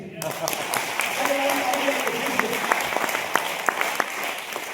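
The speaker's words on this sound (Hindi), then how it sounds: "ताली बजाइए सर" Seminar audience applauds loudly and steadily for close to five seconds, a dense wash of clapping with sharp individual claps standing out near the end, with a voice faintly audible beneath.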